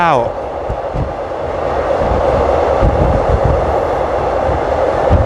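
Commuter train ride between Krung Thep Aphiwat Central and Don Mueang in Bangkok, a steady loud rumble of wheels and carriage noise with faint clatter, continuous throughout with no talk.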